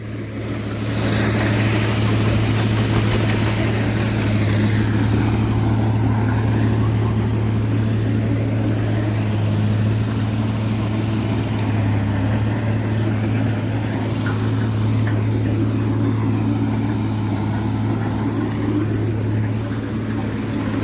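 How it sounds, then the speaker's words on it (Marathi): A machine's engine runs steadily in a quarry, a loud continuous low rumble that holds for about twenty seconds with no pauses and no speech over it. "आता ही मशीन जाणार पूर्ण इकडे कुठं खदानमध्ये"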